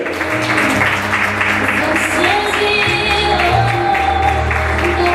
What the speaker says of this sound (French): Monsieur Tony Joly, applaudissez-le, mesdames et messieurs